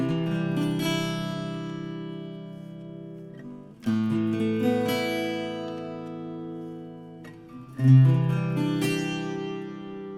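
Four layered electric guitar tracks, two panned fully left and two fully right, sound sustained chords in three long phrases with a swelling attack at each change, played without a metronome and without talk.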